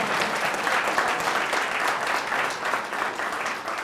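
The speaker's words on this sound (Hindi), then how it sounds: "जोर से ताली बजाओ" A church congregation at a Hindi worship service claps loudly together, a sustained, even roar of many hands heard from the middle of the room with no talk over it.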